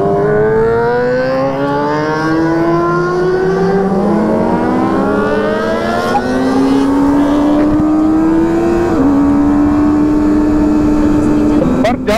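Kawasaki ZX 1000cc motorcycles racing, engines revving loud and close with rising pitch sweeps and repeated gear shifts, several machines overlapping in a continuous roar.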